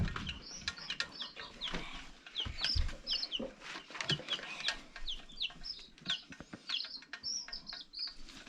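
Chicks are being lifted out of an incubator and peep constantly in high, quick cheeps, with soft clucks, shuffling and light wing flutters mixed in close by.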